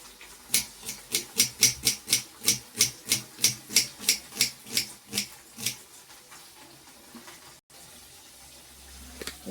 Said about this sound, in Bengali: আমি পেঁয়াজটা কেটে নিই।